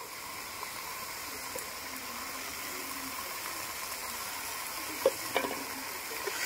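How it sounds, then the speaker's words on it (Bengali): Cabbage curry sautéing in a pan with chopped coriander leaves and sugar, a steady low sizzle running throughout with a few brief stirring clinks near the end. "ধনেপাতা দিয়ে আরেকটুখানি কষিয়ে নেব"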